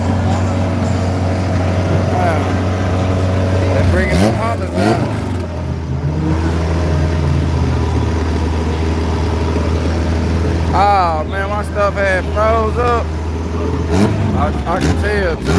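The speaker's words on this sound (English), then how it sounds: "They're bringing some Hondas out." Honda cars race at a dragstrip during night runs, engines idling with a steady low drone, then revving hard in two rising bursts, while people talk over the engine noise.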